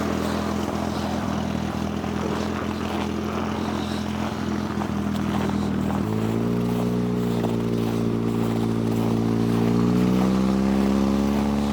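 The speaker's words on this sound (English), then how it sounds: "This is going to be a true cold start. I'm going to let her warm up for like 2 seconds" A Mazda Miata engine idling after a cold start on a frozen lake, a steady low drone that steps up in pitch and loudness midway, then rises again near the end.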